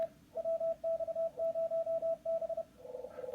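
A very loud Morse code CW signal from a radio station in an amateur radio contest sounds as a clear steady tone keyed in quick dots and dashes, with faint background hiss.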